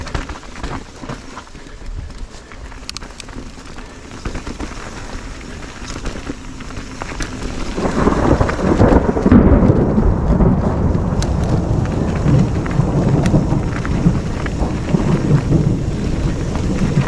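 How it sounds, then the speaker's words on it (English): A thunderstorm with heavy rain breaks over Fooses Creek on a wet mountain-bike ride: steady loud rainfall, then a deep rumble of thunder that swells midway and keeps rolling under the downpour, with no talking. "Thunderstorm, anyone?"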